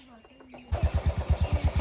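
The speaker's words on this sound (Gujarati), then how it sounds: "બાઈક ચાલુ કરી દીધું છે" A motorcycle engine starts up after quiet background and settles into a steady, loud, rhythmic idle chugging close by, with faint birds and voices earlier.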